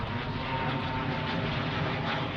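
A small one- or two-seat helicopter flying overhead gives a steady, loud, unbroken engine drone that fills the whole stretch with no talk over it.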